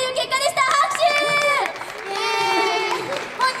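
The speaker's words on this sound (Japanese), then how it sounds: "拍手。 イエーイ。" A small crowd at an idol group's shopping-mall fan event cheering, with several bright, sustained shouts of excitement rising and falling over two bursts, voices loud and close.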